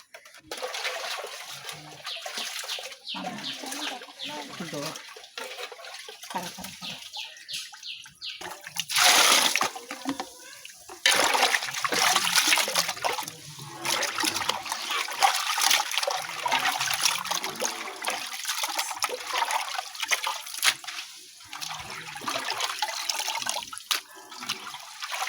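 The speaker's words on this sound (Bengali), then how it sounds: "তো এই যে আমি মুরগির মাংসগুলো ভালো করে ধুয়ে নিমু" Raw chicken meat is washed in water in a village kitchen, with running water, sloshing and splashing that comes in bursts and grows louder partway through, and no talking.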